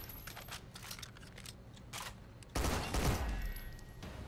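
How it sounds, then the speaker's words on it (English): A grenade blows up in the Synthetik 2 video game: scattered gunfire pops lead into a sudden loud, rumbling blast that swells and then trails off, with no talking. "Throw a grenade in there, I think. Pretty much a perfect grenade."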